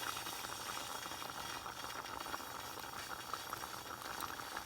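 Tapioca pearls boil in a pot of water, a constant close bubbling and rolling simmer with dense gurgling texture, steady in level and heard alone.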